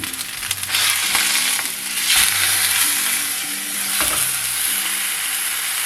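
A pork chop frying in a pot, with a steady loud sizzle and hiss of hot fat and intermittent crackles and pops close up, carrying on without a break.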